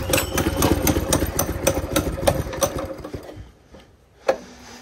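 A Baja Warrior mini bike's small engine runs as it warms up, a rapid, rattly, close putter that then fades away, leaving quiet with a single sharp knock near the end.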